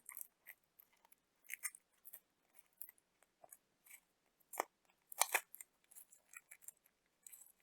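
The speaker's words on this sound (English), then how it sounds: "And now you can just remove the tape like so." Tape peels and crinkles off a piece of crochet work in a string of faint, short crackly rips and rustles, scattered and irregular, close by and quiet with no talking.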